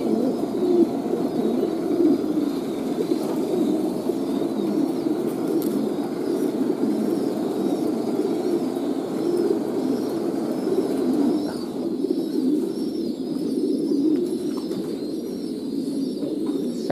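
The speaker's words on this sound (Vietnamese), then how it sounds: "mấy đôi này chim non" French-breed pigeons, adults and young, coo steadily at a pigeon farm, with soft overlapping calls and occasional wing flutters throughout.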